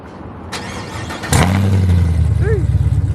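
A starter cranks briefly, then a loud Camaro LT1 V8 engine with open headers, intake and E85 fuel catches and settles into a heavy, lumpy idle, close by.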